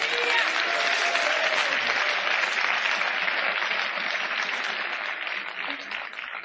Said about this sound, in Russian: Дай Богу аплодисмент.